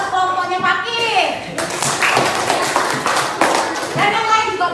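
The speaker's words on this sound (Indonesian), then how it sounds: "kasih tepuk tangan" Classroom applause for the best-presenting group: a brief voice opens, then a burst of many hands clapping fills the rest, dense and sustained, close by and loud.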